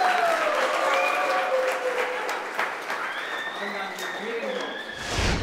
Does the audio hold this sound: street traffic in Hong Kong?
no